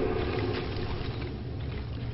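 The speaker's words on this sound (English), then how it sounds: "It's because we got this big-ass engine going." A big Dwemer engine in the Arkngthand ruin in The Elder Scrolls III: Morrowind gives a loud, constant mechanical rumble and hiss that fills the space, steady throughout with no voices.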